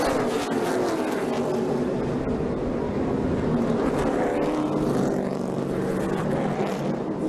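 NASCAR stock cars racing and crashing at Pocono, a dense continuous roar of engines with broadband rumble and crowd-like wash throughout, loud and unbroken.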